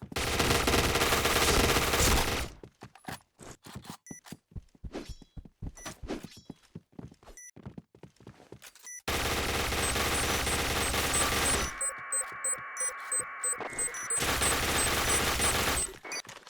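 A JackHammer shotgun fires rapidly in a bomb-defusal shooter match: dense, loud bursts of automatic blasts, then gaps of sharp single shots and clanks, then another long continuous barrage, with no talking.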